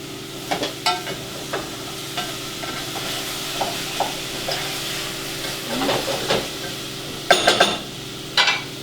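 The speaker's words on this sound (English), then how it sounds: "Maybe stir a little bit" A spoon stirs a pot of chicken soup with bay leaves and beans, a soft simmering hiss with intermittent scrapes and knocks against the pot, close and without talk.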